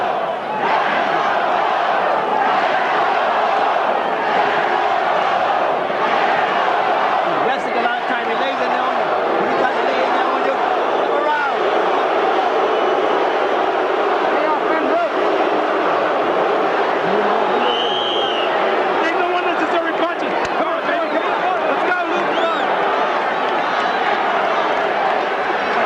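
A large boxing arena crowd roars and chants for Riddick Bowe at ringside during his first fight with Evander Holyfield, a loud, continuous wash of massed voices with rising surges across the whole stretch.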